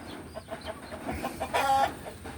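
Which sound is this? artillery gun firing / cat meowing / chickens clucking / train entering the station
chickens clucking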